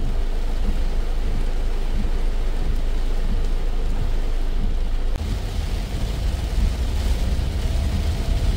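Heavy monsoon-season rain pours down in a steady, loud, dense roar, with low rumbling underneath from passing traffic or distant thunder, and no one speaks.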